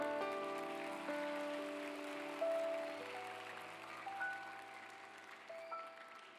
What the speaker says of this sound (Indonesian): Kasih tepuk tangan dong untuk kalian.